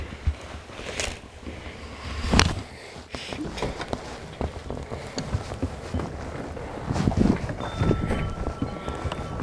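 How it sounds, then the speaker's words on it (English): Gusty outdoor wind buffets the microphone during a stunt drone outing, a rough rumbling rush with a few louder bursts and some faint background activity throughout. "A little windy."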